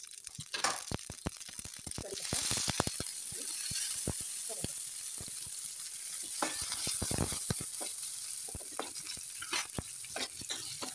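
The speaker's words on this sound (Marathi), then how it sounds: "एकदम थोडं तेल टाकायचं आपल्याला, त्यात थोडं जिरं आणि जास्त मोहरी" Cumin and mustard seeds crackle in a little hot oil for dal amti, a steady close sizzle broken by frequent sharp pops and spits throughout, with no talking.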